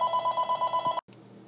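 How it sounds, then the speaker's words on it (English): A telephone rings during a math lesson on systems of three variables, a rapid pulsing electronic trill that stops abruptly after about a second, followed by quiet room tone. "Sorry about my phone ringing."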